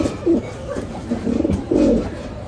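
Saharanpuri desi pigeons coo in low, throaty, rolling phrases, two or three bursts close by, alone without speech.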